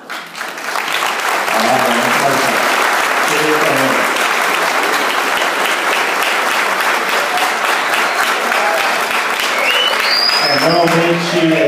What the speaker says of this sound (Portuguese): uma salva de palmas que dura mais ou menos 3, 4 minutos